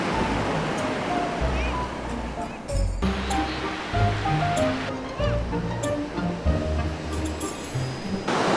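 Ocean waves break and wash along a sandy beach in a continuous, loud roaring surf with uneven surges, and faint voices are heard underneath.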